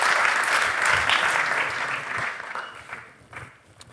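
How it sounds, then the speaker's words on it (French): A conference audience gives a speaker named Bertrand another round of applause after his talk on AI and climate issues, a full burst of clapping that gradually thins out and fades. "je propose qu'on l'applaudisse encore une fois"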